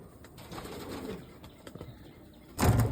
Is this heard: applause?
no